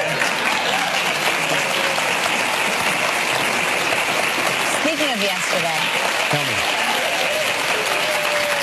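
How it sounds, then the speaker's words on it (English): Prolonged studio audience applause on a live morning talk show, steady and loud throughout, with hosts' voices talking over it in the second half. "That was such a weird extended applause for no reason."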